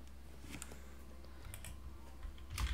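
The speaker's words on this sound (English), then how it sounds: "I start typing there" Computer keyboard typing in a steady run of soft key clicks, fairly close and continuous, with a few louder taps near the end and no talking.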